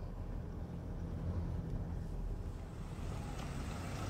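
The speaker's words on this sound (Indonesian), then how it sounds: "kita nanjak kita tahan di ketahan mesin di atas 1200 karena di situ torsi puncaknya" A Toyota Innova climbs a hill. From inside the car, its engine gives a steady, low, rumbling drone with a constant broadband wind and road rush and no clear changes.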